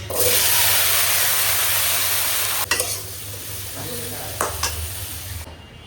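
Vegetables fry and get stirred in a pan, with pointed gourd and okra in the oil. A loud, steady sizzle fills the first half and then fades lower, broken by a few sharp scrapes of the spoon against the pan.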